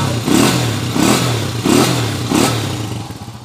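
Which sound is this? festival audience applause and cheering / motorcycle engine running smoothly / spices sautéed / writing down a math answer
motorcycle engine running smoothly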